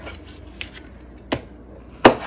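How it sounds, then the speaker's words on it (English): A knife chops apples on a cutting board in a home kitchen: three sparse, sharp knocks, the last one loudest, over a quiet room. "Okay, so I'm going to finish chopping up this last piece."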